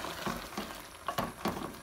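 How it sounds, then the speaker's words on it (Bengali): Ridge gourd and vegetables frying in a pan for Sylheti dried-fish curry, giving a steady close sizzle broken by several scraping stirs of a spatula. "আবার আমি অ্যাড করতেছি এখানে ঝিঙ্গেটাকে আর অ্যাড করে আমি আরও কিছুক্ষণ কষাবো"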